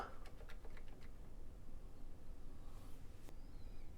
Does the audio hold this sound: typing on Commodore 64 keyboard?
yes